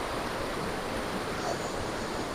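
A forest waterfall flows with a steady, dense rushing roar of water that holds constant and unbroken from start to end.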